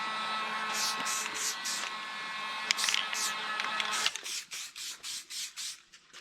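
A hair dryer drying fresh paint on a bracket outdoors in the cold blows with a steady whooshing hum, then gives way to short hissing bursts in a quick rhythmic series.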